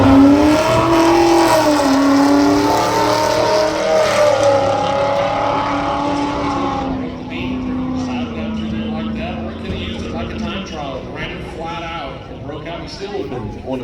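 Street cars drag racing at US131 Motorsports Park, with a loud, sustained engine roar that falls away partway through while an announcer keeps talking over it.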